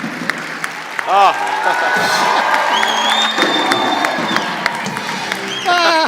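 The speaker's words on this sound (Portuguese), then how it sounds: "Não, uma salva de palmas" An audience breaks into applause and cheering, a dense clapping wash with whoops and shouts, mixed with voices talking and exclaiming over it.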